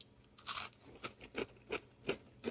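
Someone bites and chews crispy gluten-free butternut squash fries, a sharp first crunch followed by about six evenly spaced crunchy chews, close and clear.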